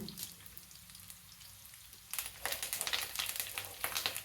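Green chillies and curry leaves dropped into hot oil, a quiet hiss that bursts into loud crackling and spitting about halfway through, continuing close and vigorous to the end.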